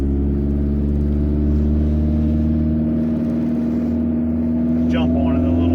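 A freshly built Honda H22A engine in a Prelude with an open downpipe and no exhaust fitted idles with a loud, steady, rough drone that holds throughout, lifting slightly near the end.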